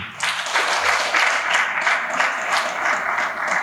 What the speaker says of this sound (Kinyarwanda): bagira ngo mumpize amashyi twongere tumushimire cyane